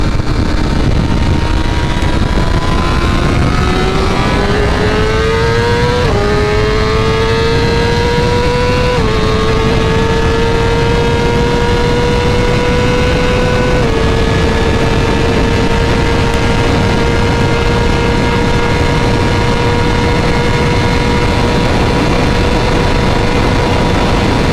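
A 2023 BMW S1000RR sport bike accelerates hard toward top speed, its engine climbing in pitch through several upshifts before settling into a sustained loud high-revving whine with heavy wind roar.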